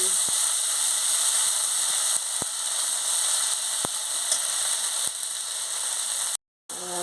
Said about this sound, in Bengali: এবার আমি জিরে বাটা দিয়ে দিচ্ছি দিয়ে মশলাটাকে ভালো করে একটু কষে নিচ্ছি